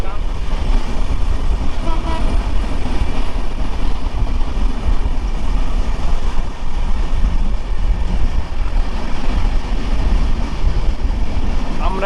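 The Ekota Express, hauled by an American 6600 series locomotive, travels from Panchagarh to Dhaka near Tongi. It fills the whole stretch with a loud, unbroken rumble and rattle, heard close and steady from start to finish.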